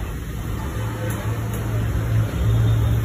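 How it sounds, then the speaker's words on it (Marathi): A new motorbike engine runs at a steady idle near the listener, a low continuous hum that rises slightly toward the end. "या गाडीवर बसा ना, गाडी स्टार्ट करा."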